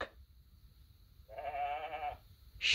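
A sheep gives one wavering, moderately loud bleat lasting under a second, with a quiet background before and after.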